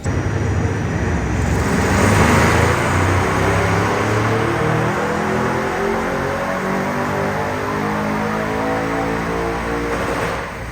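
A stock-turbo 2018 Audi RS7 revs hard on a dynamometer, its engine drone loud and sustained with rising harmonic sweeps through the full pull, no voices over it.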